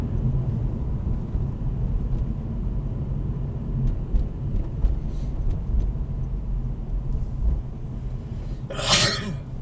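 A single sharp sneeze inside a car during a driving test on an uphill route near Uni Waterside in Northampton, bursting out near the end over a steady low engine and road rumble.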